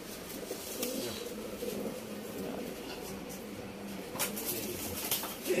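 Pigeons coo softly in low, rolling murmurs, fairly quiet, with a voice talking over them at times.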